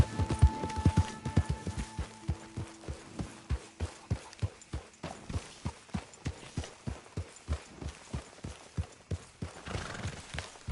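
A horse's hooves clip-clop in Red Dead Redemption 2 on PS4, a steady, even trot of close, distinct beats that runs the whole time, with a brief whinny-like tone near the start.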